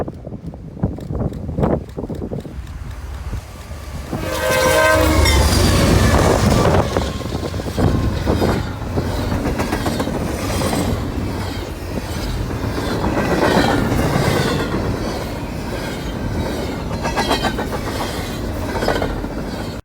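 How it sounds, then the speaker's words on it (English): A BNSF freight train of stack cars, led by locomotive 5354 heading west, rumbles past loudly with rolling clatter and wind noise, building after a few seconds and staying strong; no clear horn stands out. "we found BNSF 5354 leading stacks west"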